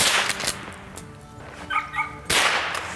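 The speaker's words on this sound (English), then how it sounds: "she's a smart little dog" A small hunting dog barks during a squirrel hunt, a few sharp, quick barks and cracks over outdoor background noise.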